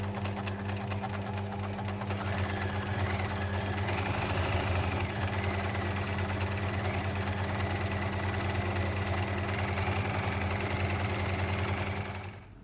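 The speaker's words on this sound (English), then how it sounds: "And we're sewing just on the edge of the fabric." A sewing machine runs steadily along the raw edge of a fabric side seam, its motor whirring in a close, continuous drone with a fast mechanical patter for the whole stretch and no talking.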